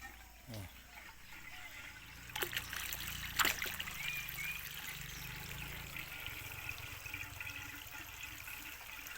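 Water trickles and flows steadily into an old earthenware jar used as a catfish pond, a soft continuous splashing with a few brief louder knocks and splashes early on.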